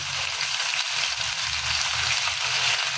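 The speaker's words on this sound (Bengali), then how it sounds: "পেঁয়াজের সঙ্গে ভালোভাবে সবজিগুলো হালকা হালকা ফ্রাই হয়ে যায়, ভাজা হয়ে যায়" Taro, pointed gourd and eggplant fry with onions in a pan, a close, continuous crackling sizzle with a low rumbling underneath.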